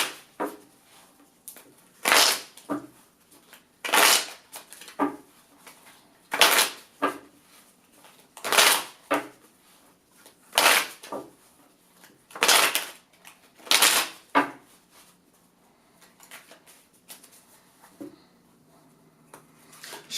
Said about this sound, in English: I'm going to shuffle my oracle cards 7 times for Shereé.